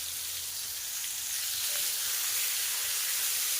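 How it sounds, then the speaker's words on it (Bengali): Mango pieces sizzle in a hot pan while being sautéed for a chutney, a steady, close, bright hiss of frying that holds evenly throughout. "আবারও খুব ভালোভাবে আমগুলোকে একটু কষিয়ে নেব"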